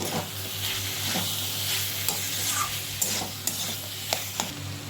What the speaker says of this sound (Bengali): এবারে আবার একবার ভালো করে কষিয়ে নিচ্ছি